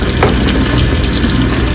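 Water pours loudly and steadily from a tap into a sink during hand rinsing at a dental office, a close, constant rushing wash with no speech.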